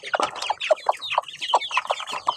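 Backyard chickens cluck busily while pecking at beans scattered in their feeding tray, a dense run of short, close clucks and chirps with no talking.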